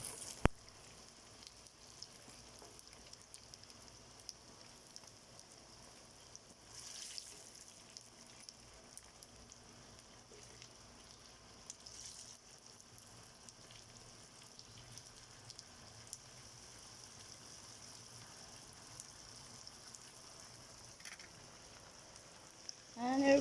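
Chicken skin frying in hot oil, a quiet, steady sizzle and crackle that runs for a long stretch with occasional louder pops, and faint talk now and then.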